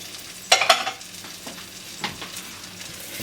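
Onion, garlic and bell pepper sauté in a hot pan, with a burst of stirring and clatter near the start and then a soft, steady sizzle with occasional scrapes.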